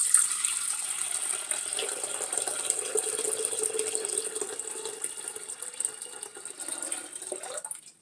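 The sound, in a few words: filtered water filling a pitcher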